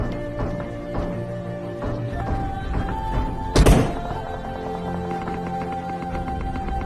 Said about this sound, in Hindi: पर ये फुटस्टेप्स पता नहीं कहाँ से आ रहे थे